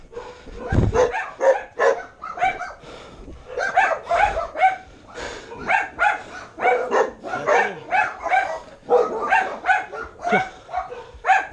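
Several dogs bark repeatedly and close by in a rapid, overlapping series, with occasional yips and whimpers mixed in, continuing loudly for more than ten seconds.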